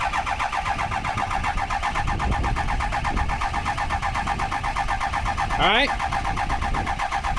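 The starter of a 2007 Ford 6.0 Powerstroke diesel cranks on and on without the engine catching, a steady rhythmic whirring churn, close and loud, with a brief spoken word near the start.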